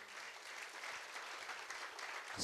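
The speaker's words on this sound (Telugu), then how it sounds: "ఒకసారి జోరుగా క్లాప్స్" Audience applause at an event honouring a business leader, steady broadband clapping from a crowd filling the whole moment without speech, swelling slightly louder at the very end.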